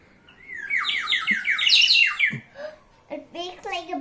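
Water-filled clay bird whistle blown to imitate birdsong, a bright warbling trill rising and falling for about two seconds, then a few shorter chirpy bursts, with a voice briefly mixed in.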